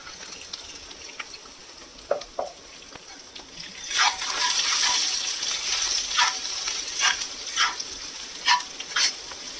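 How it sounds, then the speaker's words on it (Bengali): Chopped ginger fries in a pan, a soft, close sizzle broken by scraping stirs and light clinks that come in uneven bursts. "আদাটাও একটু ফ্রাই হয়ে গেছে।"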